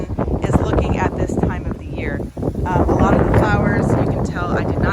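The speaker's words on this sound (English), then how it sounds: "today is the 10th of October, an extremely windy day" Strong wind in an outdoor pollinator garden in October, gusting and buffeting the microphone with rushing, rumbling noise throughout, with a person speaking over it.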